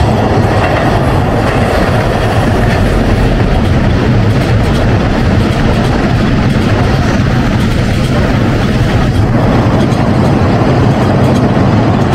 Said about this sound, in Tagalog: Dami ng train na yan.